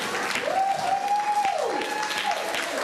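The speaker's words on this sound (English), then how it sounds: "Give these volunteers a round of applause." Audience applause for a row of standing volunteers at a community book bag giveaway, steady clapping throughout with a faint sustained tone running beneath it.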